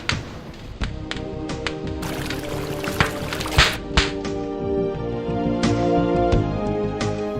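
Dust is poured into a barrel of hot water, heard as a run of pouring and splashing sounds with a few taps and thuds mixed in, close and moderately loud.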